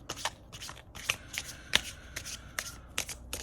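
Tarot cards being shuffled in quick, crisp riffling bursts, repeated about a dozen times in an uneven rhythm, close up and fairly quiet.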